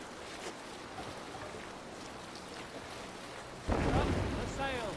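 A longship sails on open sea in the video game Assassin's Creed Valhalla, with a steady rush of wind and water, then a louder swell of waves and splashing near the end, under occasional talk.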